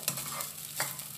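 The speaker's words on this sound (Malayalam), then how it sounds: "കൈ വിടാതെ ഇളക്കിക്കൊണ്ടിരിക്കണം കേട്ടോ" Grated coconut is stirred continuously while it roasts in a pan for pumpkin and bean erissery, heard as a soft dry sizzle with three rhythmic scraping strokes close by.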